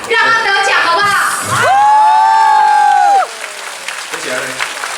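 A concert crowd at a Taiwanese-language music show claps and cheers loudly, with whoops and shouts rising over sustained voices before the noise drops off.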